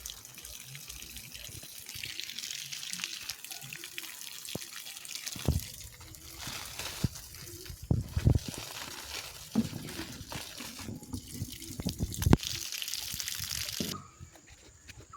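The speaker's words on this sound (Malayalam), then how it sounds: "നമുക്ക് സ്റ്റാർ ഫ്രൂട്ടിന് കുറച്ച് വെള്ളം ഒഴിച്ചു കൊടുക്കാം" Water poured onto star fruit, guava and banana plants in a home garden, a soft uneven trickle and splash with scattered drips and a few louder splashes, with faint background noise.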